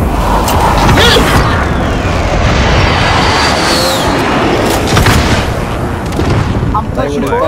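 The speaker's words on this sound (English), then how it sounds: "I'm putting an airstrike." Airstrike explosions in the video game Warzone, continuous heavy rumbling booms and blasts layered densely without pause, very loud and close, with voices talking underneath.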